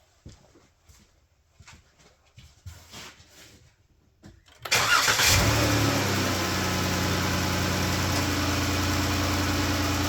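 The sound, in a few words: car engine ticking at idle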